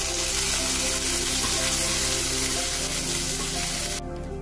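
Curry leaves and chili sizzling in hot oil for savory kozhukattai, a loud, dense, continuous crackle close to the pan that drops abruptly near the end.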